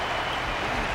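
Steady, dense crowd applause and cheering fills a stadium arena in a video game cutscene as an audience salutes a resilient Belobogian fighter after a match, continuous and loud without a break.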